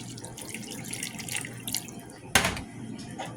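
Water poured into a flour gravy and stirred in a pan while cooking, heard as a steady close trickle with one brief louder splash partway through.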